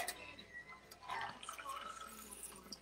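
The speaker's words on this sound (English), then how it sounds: "It does say strain. Hey, yep. Straining into a double rocks." A cocktail strained into a double rocks glass, liquid trickling and dripping softly into the glass under a faint, busy room background.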